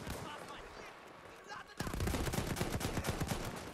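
Rapid Battlefield 1 gunfire breaks out partway through, a dense run of sharp shots following a quieter, murky stretch of battlefield noise.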